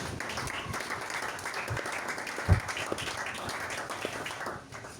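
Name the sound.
congregation applause acclaiming Jesus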